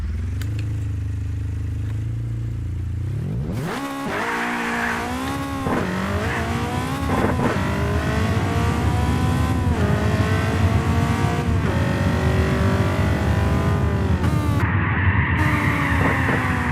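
A drag car launches down a quarter-mile track in a racing video game, the engine revving hard and climbing through repeated gear shifts, loud and close with a brief squeal, no talk over it.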